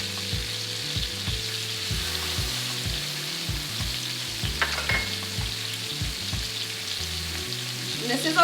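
Butter and heavy cream cooking in a pan over medium heat, giving a steady soft sizzle and bubbling throughout with no talking.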